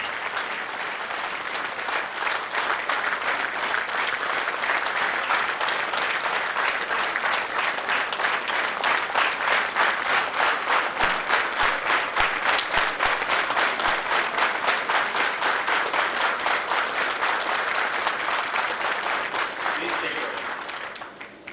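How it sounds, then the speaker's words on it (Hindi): Sustained audience applause at a Lions district cabinet installation ceremony for District 3232 J, dense steady clapping from a large crowd that swells after a couple of seconds and holds for about twenty seconds before tapering off. "तालियां बज गई"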